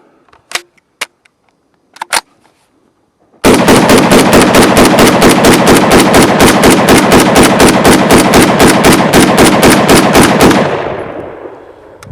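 A Kel-Tec SU-16 rifle fires rapidly through a 30-round magazine, a long, loud, evenly spaced string of sharp shots lasting about seven seconds, preceded by a few isolated clicks and handling sounds, with outdoor echo fading at the end.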